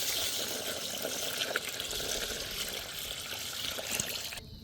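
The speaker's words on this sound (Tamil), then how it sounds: "அரிசிக்கு ஊற வைக்க தண்ணி சேர்த்துக்கிறோம்" Water poured steadily onto basmati rice soaking in a large batch for soybean biryani for sixty people, a continuous close trickle and splash that cuts off abruptly at the end.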